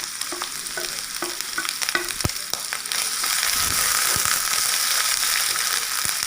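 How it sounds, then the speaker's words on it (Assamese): Onions with cumin, chilli, turmeric and coriander powders stirred in a hot pan, a steady sizzle broken by scraping spoon strokes and a few sharp clinks, the frying hiss swelling louder partway through; no talking. "এইখিনি দি এতিয়া আমি অলপ সময় লৰাই থাকিম"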